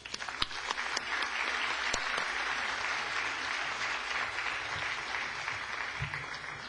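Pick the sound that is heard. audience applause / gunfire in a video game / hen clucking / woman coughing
audience applause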